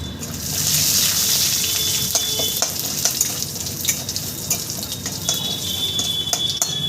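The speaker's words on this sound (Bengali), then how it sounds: "আমি সমস্ত মশলা দেখো একটু ভেজে নিলাম" Radhuni and cumin seeds spluttering in hot oil, a close, busy crackling sizzle with scattered sharp pops that run steadily throughout.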